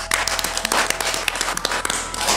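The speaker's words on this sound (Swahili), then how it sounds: "Pigeni makofi" Students clap together at a school gathering after an exam result is announced, a short burst of scattered, brisk hand claps lasting only a couple of seconds.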